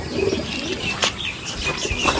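Desi pigeons in a home loft coo close by, low repeated throaty calls with a few chirps and a brief flutter of wings, no voices present.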